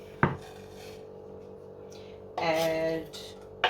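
Knife chopping vegetables on a board for vegetarian nachos, with one sharp chop, a quiet pause, then a brief burst of rapid chopping and scraping and another strike at the end.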